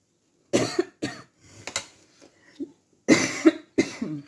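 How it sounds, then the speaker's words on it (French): Several coughs in quick bursts, a pair at first, then scattered smaller ones and another harsh pair, close and fairly loud. "Je n'avais pas prévu de tousser."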